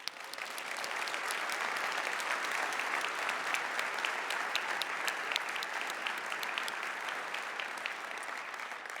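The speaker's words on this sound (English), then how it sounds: "Please give yourselves a huge round of applause." Sustained applause from a keynote audience at a corporate conference, dense and steady throughout without pause, with no voices over it.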